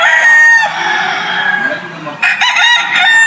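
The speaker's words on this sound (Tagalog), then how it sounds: "pakita ko lang yung isang manok nila dito na White Jacket" At a game farm, a White Jacket gamecock crows loudly up close in a drawn-out call, then a second crow or burst of calls follows after a short dip.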